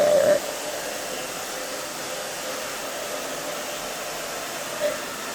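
Steady, loud whoosh of a hair dryer blowing through a woman's freshly cut short hair, running continuously at close range, with a brief vocal sound at the start and a small blip near the end.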